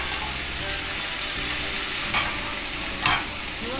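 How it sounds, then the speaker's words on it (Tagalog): Sautéed corned beef frying in a pan for a breakfast dish, a steady close sizzle with stirring and two brief louder scrapes, no talking. "Binisang corn beef."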